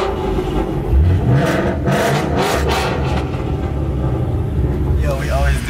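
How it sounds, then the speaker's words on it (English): A Ford Mustang engine revs and rumbles loudly with a steady roar, voices chattering over it throughout. "We're revving."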